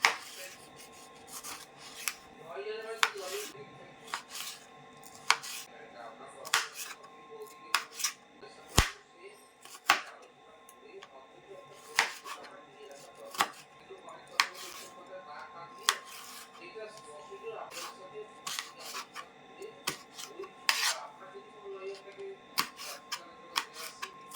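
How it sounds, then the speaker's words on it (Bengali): Lettuce, cucumber, tomato and green chilli are chopped for a salad, giving irregular sharp knife taps on a board, sometimes in quick bursts, close and fairly quiet. "লেটুস পাতা আর কাঁচা লঙ্কা শসা টমেটো এগুলো দিয়ে একটা স্যালাড বানাবো আগে চপিংটা করে নিই"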